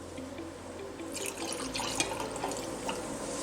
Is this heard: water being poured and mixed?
yes